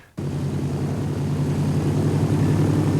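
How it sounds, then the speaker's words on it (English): Propeller planes taking off from a Fort Lauderdale runway, a steady loud engine drone with a low hum that rises sharply after a brief quiet start and holds for the rest of the time. "At 2:10 p.m., the 5 planes left the runway and headed east."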